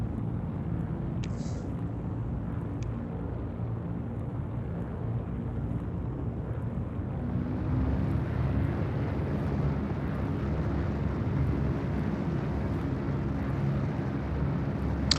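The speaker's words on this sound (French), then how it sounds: "On entend bien les moteurs, hein. Ça bourdonne bien, hein." Steady low hum of spaceship engines inside a Drake Corsair in Star Citizen, a continuous broadband drone that swells slightly louder about halfway through, with no talk.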